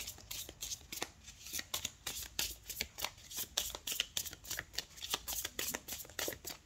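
Spirit oracle cards are shuffled by hand in a rapid, rhythmic run of crisp riffling flutters, close and fairly quiet, with no talking.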